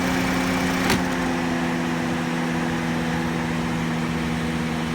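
A Honda car engine idles steadily and fairly loud, with a single brief sharp click early on and a constant low hum throughout; no voices.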